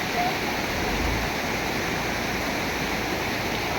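A steady, loud rush of water roars without a break, like floodwater surging past nearby.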